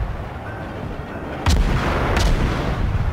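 Two sharp naval gun salvos from the destroyer Benson in World of Warships sound about a second apart, each a loud crack with a rumbling tail, over steady low engine and sea ambience.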